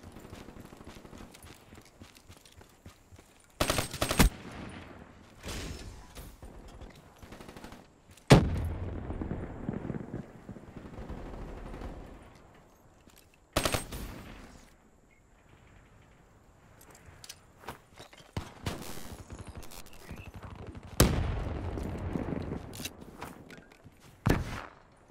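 Gunfire in the video game Call of Duty: Black Ops III, sharp loud bursts of shots arriving in separate clusters between quieter stretches of game ambience and footsteps.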